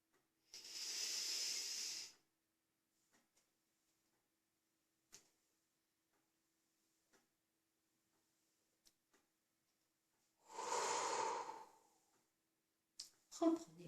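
During a guided relaxation exercise, two long, slow, breathy exhalations come close and soft, separated by near silence with a few faint ticks, and a short noise at the very end.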